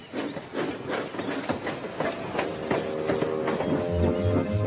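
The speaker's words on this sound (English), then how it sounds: ""It might," said Thomas, and he puffed away." A Thomas the Tank Engine steam locomotive puffs away with rhythmic chuffs of steam and hiss over rolling rail clatter, close and fairly loud, continuous throughout.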